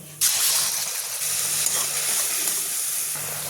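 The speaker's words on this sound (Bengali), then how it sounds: "কড়াইতে একটু গরম মশলা ফোড়ন দিলাম" Whole garam masala spices hit hot oil in a wok with a sudden loud burst of sizzling that settles into a steady, close crackling hiss for a few seconds, with no talking.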